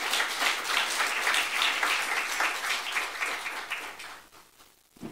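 Applause from a church youth-service congregation during a sermon, a dense wash of many hands clapping steadily for several seconds before thinning and fading out near the end.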